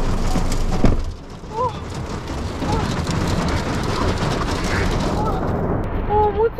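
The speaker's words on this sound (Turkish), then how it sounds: "Acaba bir yağmur yağıyor." Rain falls on a street in Medellín, Colombia, a steady, dense hiss of drops that continues throughout, with faint voices and brief tonal sounds mixed in the background.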